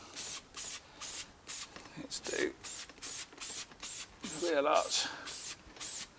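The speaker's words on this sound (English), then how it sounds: "So applying this is so easy, it's really quick and easy because you can spray this everywhere." Lanoguard lanolin rust treatment is sprayed under a Mk4 Mitsubishi Shogun, around the underbody and wheel arch, in a steady run of short hissing bursts at a regular rhythm, with someone talking over them.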